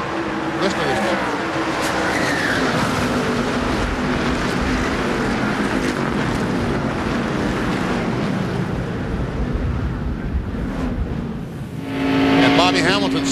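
NASCAR stock cars roar past during a 2001 Busch Series race, a dense continuous engine and crowd wash that swells again near the end, with a faint voice in the mix.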